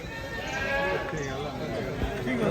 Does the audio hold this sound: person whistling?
no